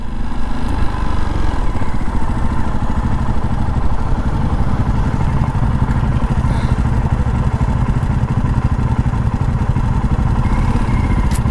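Several motorcycles, including a Dominar 250, a Duke and an R15, rumble nearby on a potholed road, a dense, steady engine drone with clattering, continuous throughout and no talk.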